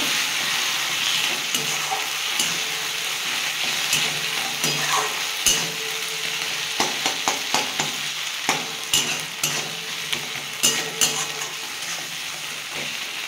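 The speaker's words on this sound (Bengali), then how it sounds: "দিয়ে ভালো করে এটা কষিয়ে নেব।" Chicken curry with tomato sauce sautéing in a pan: a steady hiss of frying under repeated scraping and stirring strokes that grow more frequent toward the end, close and fairly loud, with no talking.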